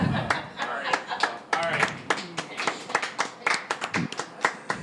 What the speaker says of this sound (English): is this the best round of applause you've ever gotten?